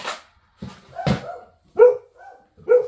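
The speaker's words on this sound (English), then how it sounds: "my mailman's here, so unfortunately you're going to hear the dogs bark for a little bit" Several dogs bark at a mailman arriving, sharp loud woofs and yips in uneven bursts close by, with short pauses between them.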